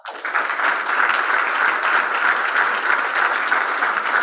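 An audience at a school Black History Month celebration applauds students, a dense, even burst of many hands clapping that rises quickly and holds loud and steady throughout, with no talk over it.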